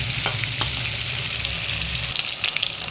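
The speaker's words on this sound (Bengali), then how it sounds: "তো তেলটাও আমার গরম হয়ে গেছে, আলুগুলো দিয়ে দিয়েছি। এবার আলুগুলোকে আমি একটু লালচে করে ভেজে নেব।" Potatoes with turmeric fry in hot oil, giving a steady, close sizzle and crackle that runs throughout with no voices.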